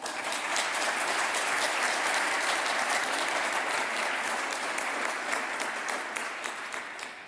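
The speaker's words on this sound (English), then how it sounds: "And I would kindly ask you for a round of applause for Anastasia." Loud, sustained applause from a large audience at a European heritage policy event, many hands clapping in a dense, even wash that eases slightly toward the end.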